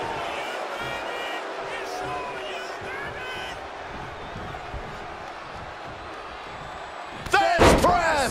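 A thunderous clothesline impact in the WWE 2K24 wrestling game lands as a loud slam near the end, over steady arena crowd noise and ongoing commentary.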